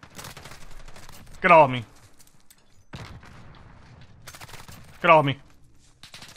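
Akimbo .357 pistols fire in a first-person shooter, two short loud bursts of rapid shots a few seconds apart, with someone talking quietly in between.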